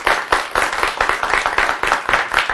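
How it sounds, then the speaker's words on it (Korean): Sustained clapping from an audience welcoming a Seoul National University education professor onto a lecture stage, a steady dense patter of many hands, fairly loud and continuous throughout with no talk over it. "큰 박수 부탁드리겠습니다."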